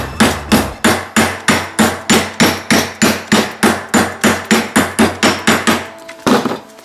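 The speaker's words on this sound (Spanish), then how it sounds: "con el martillo" Steady, evenly spaced hammer blows bending a metal hook strike about fifteen times, loud and close, ringing sharply before stopping.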